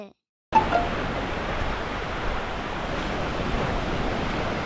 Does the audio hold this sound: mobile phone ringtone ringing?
no